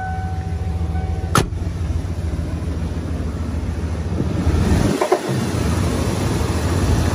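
The 7.5-liter 460 V8 of a 1997 Ford F-250 XLT 4x4 idles smoothly, a low, even hum broken by a sharp click and a heavy thump.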